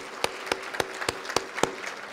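Applause for youth award recipients at a pre-Ramadan mosque banquet: a few faint, evenly spaced hand claps, about six in a steady slow rhythm, over a quiet room.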